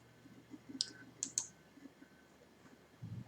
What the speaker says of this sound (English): When I click on the author's name